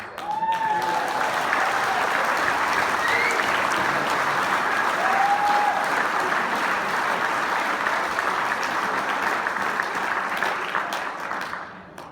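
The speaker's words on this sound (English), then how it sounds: "when you do it right, you get the applause" Sustained applause from an audience of about 350 at a Burns supper, steady and dense for the full stretch before tapering at the end, with a couple of faint whoops or voices rising above the clapping.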